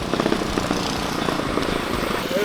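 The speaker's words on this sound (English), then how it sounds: "now, for some reason, it's running with the choke off, and it is fast, dude" A Predator 212 engine on a mini bike runs fast with the choke off, a loud, steady buzzing drone close to the microphone.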